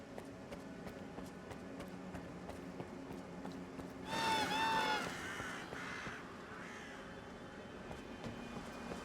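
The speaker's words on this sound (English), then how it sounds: "Birds could at least pretend to be real for once." Birds in the video game STALKER 2 burst into a loud flurry of cawing and calls partway through, standing out over a steady outdoor ambience with faint clopping, then fading back into the background.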